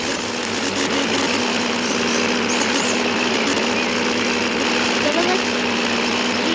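Inside a propeller airplane climbing in flight, the engine drones loudly and steadily throughout, while a person talks over the noise.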